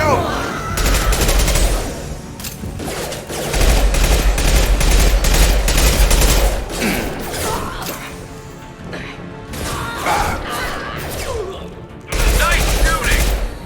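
Rapid automatic gunfire and crashing impacts from a firefight in the video game Mass Effect 2, set on Omega, loud and sustained in dense bursts with brief lulls, with voices talking over the battle.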